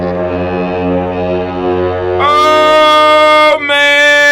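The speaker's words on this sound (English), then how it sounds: "let's sound this war horn" A war horn blares in one long, loud, sustained blast that jumps to a higher, brighter pitch partway through, with a brief break before it resumes.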